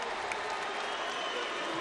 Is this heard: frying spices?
no